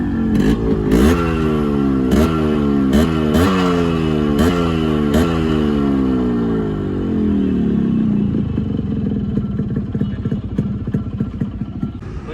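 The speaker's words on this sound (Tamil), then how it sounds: "வண்டியோட எக்ஸாஸ்ட் நோட் கேளுங்க." A Yamaha RX 100 motorcycle's exhaust, close by, blipped through a series of sharp revs that each climb and drop back before settling into a rough, burbling idle.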